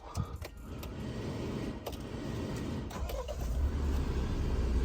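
Mahindra Scorpio Classic S5 2023 SUV engine starting up and settling into a steady idle, heard from nearby inside the vehicle after a few small clicks, with no talking.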